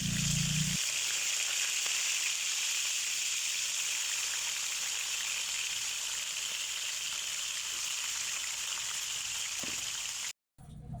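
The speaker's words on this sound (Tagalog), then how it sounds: "mainit na yung ating kawali at ilagay na natin yung ating karne" Salted pork meat frying in a hot pan, a dense continuous sizzle that holds steady at close range for the whole stretch, with a brief cut-out just before the end, no talking.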